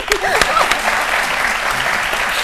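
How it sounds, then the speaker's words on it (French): A television studio audience on a French talk show breaks into a short, loud burst of close, steady clapping. "Merci de m'applaudir."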